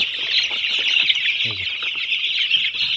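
Dense, continuous chorus of many broiler chicks peeping and chirping together in a winter brooder, close and loud, with a short low cluck in the middle.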